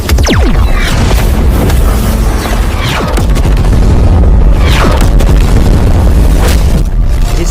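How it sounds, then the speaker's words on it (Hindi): A large firework rocket launched into the sky bursts overhead, producing a loud, continuous rolling boom with repeated crackling blasts and rumble that fill the whole stretch without pause. "जिससे उस रॉकेट की रोशनी पूरे आसमान में फैल गई और धमाके की आवाज़ आई"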